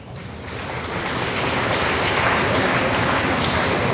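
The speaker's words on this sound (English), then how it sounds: "Let's welcome them with a round of applause." Applause for students at a school assembly, dense clapping from a large audience that swells over the first second and then holds steady and full, with no talk over it.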